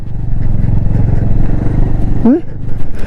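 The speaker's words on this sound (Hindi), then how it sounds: "लग रहा है जैसे टैंक चल रहा हो, बाइक नहीं टैंक" A heavy motorcycle engine thumps in a low, continuous rumble on a high mountain road between Leh and Manali, with a brief rising revving whine near the end and voices talking over it.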